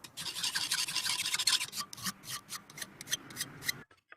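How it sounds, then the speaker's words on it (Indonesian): A hand file rasps back and forth over metal being shaped into an oval blade, making quick rhythmic scraping strokes close up, with a brief pause near the end. "dikikir manual dengan bentuk oval"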